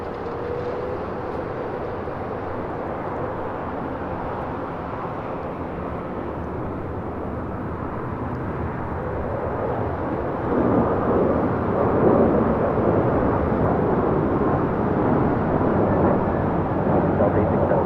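A Delta Airlines Airbus A321neo takes off at LAX, a broad steady jet roar from a distance that builds louder about two-thirds of the way through and stays strong to the end.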